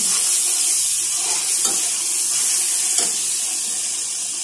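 Water pours into a pan of spices frying in oil, producing a loud, continuous hissing rush of sizzle that stays steady throughout, with no talking.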